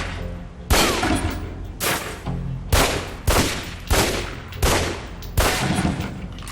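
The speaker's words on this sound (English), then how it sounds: "Equip the pistol, then aim down range and take some shots at the target." Pistol shots fired at a target on a shooting range in the video game Alpha Protocol: about nine loud, sharp cracks spaced roughly every half-second to second, each with a brief decaying tail.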